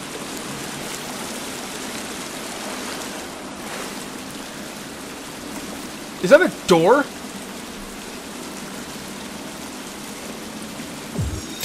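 Steady watery wash in The Forest video game, an ambient flowing or rain-like hiss running throughout a cave section, with a man's speech breaking in briefly midway.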